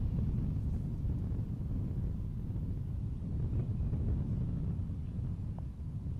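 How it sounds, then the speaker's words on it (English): Wind gusting across an outdoor disc golf course during a tournament round, a heavy continuous low rumble buffeting the microphone with no voices. "Can hear the wind"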